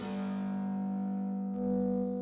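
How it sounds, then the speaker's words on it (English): A sustained, washy guitar tone through Ableton's built-in ambient reverb with a long reverberant tail, steady and spacious, swelling slightly near the end with no voices present. "I'm going to use this ambient reverb again, the built-in Ableton one."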